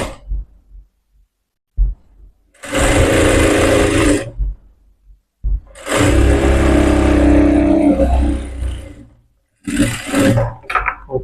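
Sewing machine stitching a blouse, running in three bursts of a few seconds each with a whirring motor hum, close and loud, separated by short quiet gaps.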